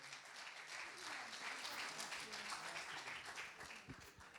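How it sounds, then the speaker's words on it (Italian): An audience at a TV football penalty awards ceremony gives sustained applause, dense clapping that holds steady throughout with some voices underneath. "lo accompagniamo con l'applauso del pubblico."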